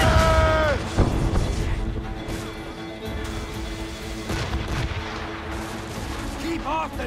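Ship cannons fire in a naval battle in Assassin's Creed Rogue, heavy booms and crashes landing amid a dense, loud mix of battle noise, music and shouting crew voices throughout.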